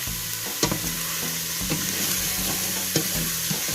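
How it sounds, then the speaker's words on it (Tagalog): Shrimp sizzle in a hot pan of oil as they are stirred, a steady frying hiss broken by a few sharp scrapes and clinks of the utensil against the pan, with no talking. "And then I will add my shrimp."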